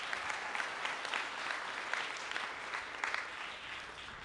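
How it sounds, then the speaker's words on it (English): Audience applause at a Bay Area career panel event, a sustained burst of many hands clapping at moderate volume for several seconds, tapering slightly toward the end. "Let's give him one more round of applause."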